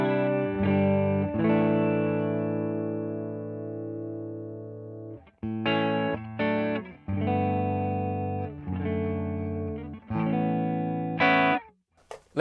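Electric guitar played through a Fractal Carol Ann Tucana amp model, a master-volume preamp-style amp: sustained, overdriven chords ring out, then choppier strummed chords follow with short gaps, loud and alone with no talk.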